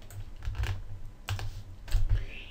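Typing on a computer keyboard, three short bursts of rapid close key clicks separated by brief pauses, with no speech over them.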